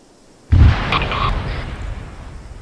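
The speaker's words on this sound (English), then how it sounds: "What was that explosion?" Arma 3 explosion in a military game, a sudden loud boom that rolls into a long rumbling tail, with faint radio-like voices briefly heard over it.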